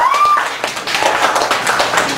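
A café cabaret audience in Chicago applauds a performer with steady, close, full clapping throughout, after a brief whistle at the start.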